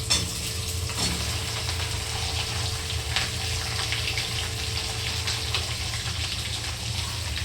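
Okra (bhindi) drops into a hot pan with a thump and then fries in a continuous, close sizzle with some stirring, alone and without talk.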